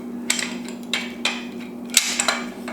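A few sharp metallic knocks from an adjustable hammer striking a bolt on a Mustang, spaced irregularly, over a steady low hum; single strikes ringing briefly.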